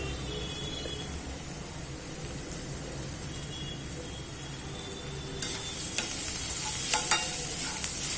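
Street-style egg bhurji stirred in a hot pan: a steady sizzling frying hiss runs throughout, and near the end it brightens with a burst of louder sizzle and a few scraping spatula clicks, close and without talk.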